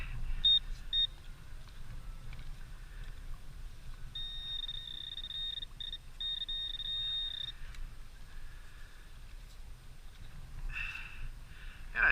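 A NOX metal detector gives a high, ringing signal tone in a field: a few short beeps, then a sustained bright tone lasting several seconds, with brief chirps before and after over quiet outdoor background.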